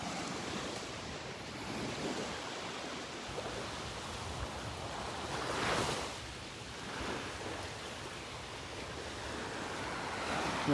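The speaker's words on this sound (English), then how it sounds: "Close your eyes and pretend you're here. Listen to the waves." Ocean waves wash onto the beach at Delnor-Wiggins with a continuous broad roar, swelling gently as breakers roll in, with light wind rumble on the microphone and no talking.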